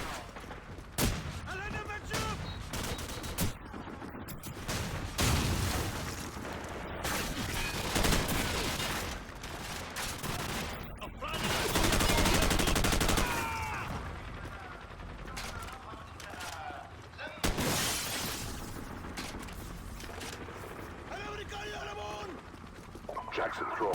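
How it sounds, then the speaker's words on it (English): Bursts of heavy gunfire from a big, loud gun in the Modern Warfare video game, rapid volleys and explosive blasts recurring throughout, dense and loud with a voice talking underneath. "I have a much bigger, louder gun."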